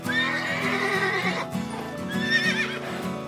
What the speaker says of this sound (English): Two domestic palominos fight each other to decide.